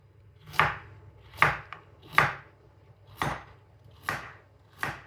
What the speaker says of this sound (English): Do some chopping. We've also got some swede.